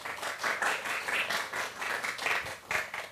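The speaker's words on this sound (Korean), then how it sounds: "이렇게 잔잔하게 박수 쳐주시면 돼요." Gentle clapping from a lecture audience before a pan flute performance, soft rhythmic hand claps in a loose, pulsing pattern, fairly quiet and unaccompanied by speech.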